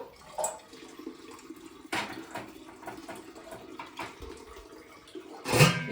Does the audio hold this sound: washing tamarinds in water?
yes